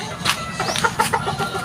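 Gamecock roosters being conditioned for fighting cluck in short, close bursts over a steady farmyard background, with a faint car-like hum underneath.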